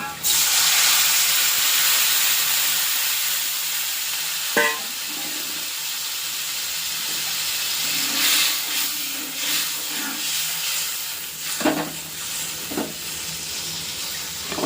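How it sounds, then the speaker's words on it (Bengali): Water poured into a pan of fried garlic, onion and chili hits with a loud hissing burst that settles into a steady, sustained sizzle and steam, with a few clanks and sharp kitchen knocks along the way. "রসুন, পেঁয়াজ, লঙ্কা সব কিছু ভাজা হয়ে গেছে। এখন দিয়ে দেবো জল।"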